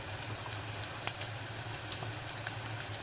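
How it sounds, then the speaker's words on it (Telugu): Turmeric fries in a pan for gongura dal curry, producing a soft, steady sizzle with a couple of faint clicks from stirring and no voices. "కొంచెం ఫ్రై అయ్యే దగ్గర, పచ్చి వాసన పోయే దగ్గర వేపుకుందాం."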